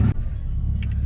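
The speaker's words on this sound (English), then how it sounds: "We're gonna go slow porque this truck is definitely hauling" A pickup truck hauling a heavy load drives along with a steady low engine rumble and road roar, close and continuous, with a brief louder burst at the start.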